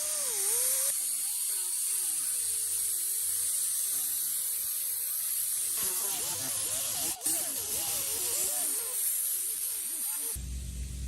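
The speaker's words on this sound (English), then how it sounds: "you want to use a softer thing to grind down all your filler" Sanding pad grinding body filler on a Lexus fender under repair: a steady, close, hissing rasp with wavering pitch as the pad moves back and forth, ending in a brief bump and rougher scrape, with no talk.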